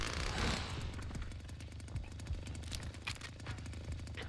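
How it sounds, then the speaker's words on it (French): A Black & Decker chainsaw in the Texas Chainsaw Massacre video game rattles loudly with rapid, jackhammer-like chatter, a rough sustained buzz with a strong burst at the start, heard alone. "je fais toujours confiance à ma tronçonneuse Black & Decker"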